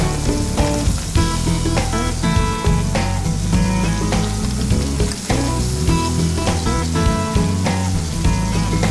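Loud continuous sizzling of a cutlet frying in a hot pan, with background music playing throughout.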